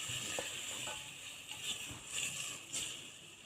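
Half a kilo of chicken frying with cauliflower in a pan for gobhi gosht, a bright steady sizzle with a few soft stirring scrapes and clicks rising and falling, no talk.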